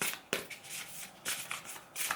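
Several short bursts of a deck of thick cards being shuffled close up, crisp riffling sounds separated by brief quiet gaps.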